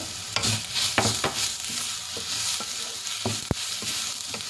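Spices being stirred into bread kottu in a hot pan, a steady sizzle broken by repeated sharp scrapes and clacks of the spatula against the pan, close and moderately loud, no voices.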